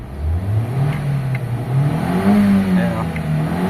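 A car engine with a faulty RPM gauge, after two ignition coils were replaced, revs continuously, its pitch rising and falling in loud close surges while someone speaks briefly over it.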